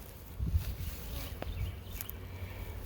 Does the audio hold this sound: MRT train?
no